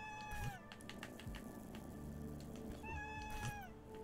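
Cats meow in a video game level, two clear drawn-out meows, one near the start and one near the end, over steady game background sound.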